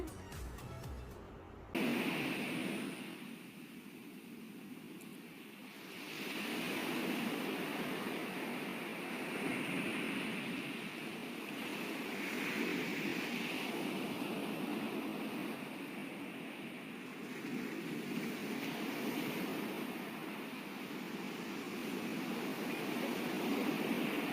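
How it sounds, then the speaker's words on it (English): Ocean waves wash in a steady, broad roar of surf that swells and recedes gently over a long stretch, heard alone without voices at moderate loudness. "That is the sound of waves."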